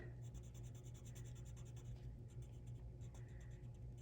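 Colored pencil in crimson red burnishing paper with steady, continuous scratchy strokes, close and fairly quiet, with no talking.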